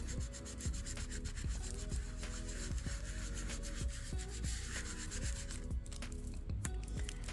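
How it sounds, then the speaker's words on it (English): A squeegee rubbing vinyl onto transfer tape, a continuous close scraping rub with rhythmic back-and-forth strokes, steady and moderately loud throughout; no talking. "I'm going to go ahead and use my squeegee to adhere both of them together"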